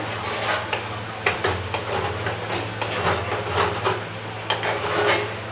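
Cumin, coriander, cloves, cardamom and cinnamon dry roasting in a pan give a steady close rasping, scraping sizzle with repeated stirring scrapes throughout.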